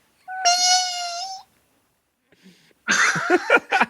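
A person imitates a kitten's meow with a sustained, wavering vocal cry lasting about a second, close and clear, followed after a pause by laughter and speech from the podcast participants.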